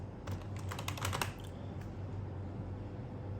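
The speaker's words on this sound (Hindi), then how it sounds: "तो मान लीजिए मैं यहाँ डालता हूँ सुयश पटेल" Fingers type on a computer keyboard at close range, a quick run of distinct key clicks lasting about a second, then a few stray taps before it fades into a low steady room hum with no voices.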